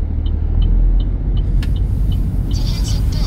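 A car pulls away on a road driving test course in South Korea, its steady low engine rumble close and loud throughout, with a faint repeating ticking, likely the indicator, above it.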